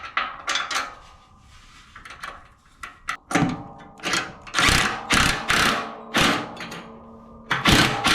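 A bolt is fitted into the plow hitch of a Case 220 garden tractor, giving close metallic clanks, taps and thuds in an irregular series with short pauses between them.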